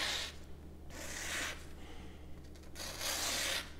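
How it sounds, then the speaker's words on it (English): A Shigeki Tanaka kitchen knife slicing through paper, three soft, smooth hissing strokes, each about half a second long, close up and faint in a quiet room. "We always like to hear or not hear the sounds of paper being cut."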